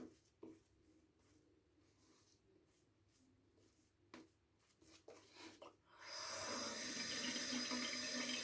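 Running tap water fills a shaving lather bowl for a brush. Quiet rubbing and tapping come first, then a steady loud rush of faucet water starts about two-thirds through and continues to the end.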